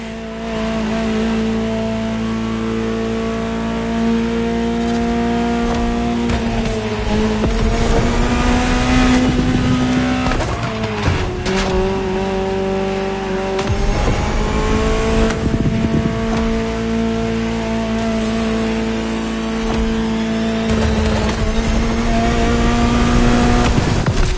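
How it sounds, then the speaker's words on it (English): A loud, high-revving Ferrari supercar engine in the video game The Motor Fest roars continuously, pitch rising and dropping through gear changes, with tire noise and a racing, aggressive tone. "Just listen to the car you're driving."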